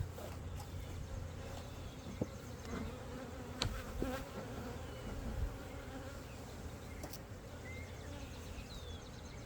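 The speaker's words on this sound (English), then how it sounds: "Too many bees." A big beehive opened up during a nuc and newspaper combine, with dense bees buzzing continuously and closely all around, a steady droning swarm with a few louder passes near the microphone.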